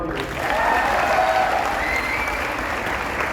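Steady applause from a goal-setting seminar audience fills the whole stretch, a dense continuous patter of clapping at moderate loudness with no voices over it.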